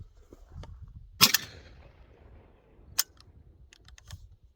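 A Citadel Boss 25 shotgun fired during a reliability test, giving two sharp loud reports about two seconds apart with some fainter clicks and handling noise between them, and no talking.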